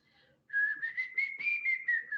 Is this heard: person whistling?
yes